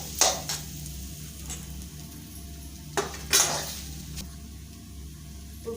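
Soaked, slightly clumped fenugreek seeds dry-roasting in a pan, giving a low, quiet sizzle broken by a few sharp metallic clinks and scrapes of a spoon against the pan.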